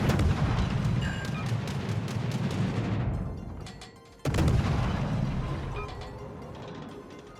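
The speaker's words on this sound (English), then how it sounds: "I'm not getting a lot out of these salvos." Naval gun salvos from a USS Flint, a Tier VII American premium cruiser in World of Warships, boom as a dense, sustained rumble of repeated firing that dips briefly before a sharp new blast and continued barrage.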